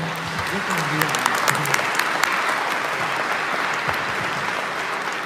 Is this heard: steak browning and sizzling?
no